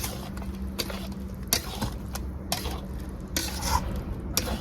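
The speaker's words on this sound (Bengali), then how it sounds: "তো বন্ধুরা মাংসটাই আমি কড়াইয়ের ভিতরে ঢেলে দিলাম।" Marinated chicken tipped into a hot kadai with gravy, sizzling continuously while a spoon scrapes and clanks against the metal pan in repeated close strokes.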